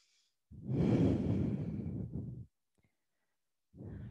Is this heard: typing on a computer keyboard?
no